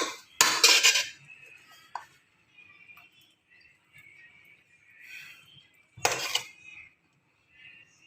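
A utensil clinks and scrapes against a dish while sauce is spread over lasagna sheets for a homemade chicken lasagna, with two louder bursts of metal on dish and softer scraping between them.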